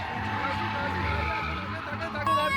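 Drift car revving hard and sliding with tire squeal, engine tone wavering as the throttle is worked, loud and continuous for the whole stretch with a sharp rise near the end; voices speak over it.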